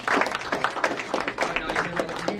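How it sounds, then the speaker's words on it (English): Audience applause at a magic show, a steady patter of many hands clapping with some crowd noise underneath, close and sustained across the moment. "Can you give a round of applause, please?"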